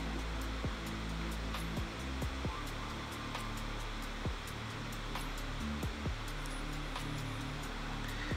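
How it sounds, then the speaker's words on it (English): Jigsaw cutting holes for tabs in the metal roof of a VW T6.1 Transporter van for a pop top fit, a steady loud buzzing drone running throughout with brief sharp clicks, close by. "you cut up to this little bit of metal with the jigsaw"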